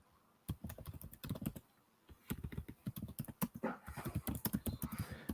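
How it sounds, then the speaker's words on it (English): Rapid typing on a computer keyboard at moderate distance, a fast, irregular run of light clicking keystrokes that pauses briefly and then resumes busily. "I can just hear Mitch just typing up a storm over there"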